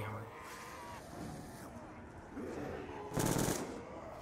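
A gun fires in a zombie shooting game. The sound is muffled and mixed with other game noise, with a loud burst of rapid fire near the end and someone talking excitedly throughout.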